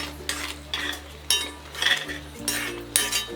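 Carrot halwa stirred with a metal spoon in a pan: repeated scraping, clinking strokes come in steady bursts about every half second, close and fairly loud over a low steady hum, with no talking.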